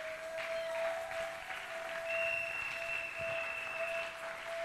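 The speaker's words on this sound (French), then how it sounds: "Est-ce que tu ne peux pas acclamer cette parole?" A church congregation applauds during a French-language sermon, a soft, steady patter of clapping heard from a distance, with a sustained musical tone under it.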